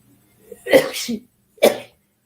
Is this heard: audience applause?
no